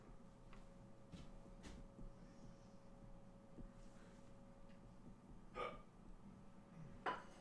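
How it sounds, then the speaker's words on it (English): A person hiccups faintly twice in a quiet room during a wood-burning session, each hiccup a short, soft burst about a second and a half apart over a low background hum. "It was a hiccup."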